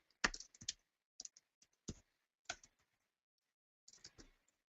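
Several short bursts of clicks from someone typing an email address on a computer keyboard, close and fairly quiet, in clusters separated by brief pauses, with no talking.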